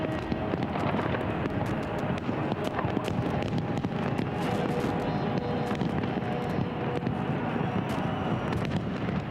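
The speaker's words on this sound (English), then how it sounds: "Millennium arrives with a spectacular fireworks display in the middle of London, stretching along the Thames River" A millennium fireworks display over the Thames in central London crackles and pops continuously, with dense overlapping bursts under heavy wind and crowd noise.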